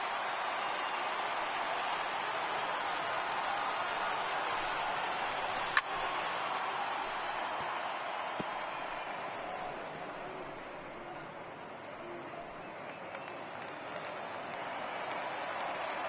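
A large stadium crowd in a PS4 baseball video game roars steadily in a broad, continuous wash of cheering and applause, with a sharp crack briefly cutting through.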